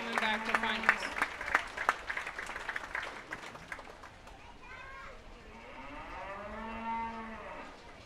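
Scattered clapping from a crowd at a county fair beef cattle show in the first few seconds, then cattle mooing loudly with long drawn-out calls as the clapping fades.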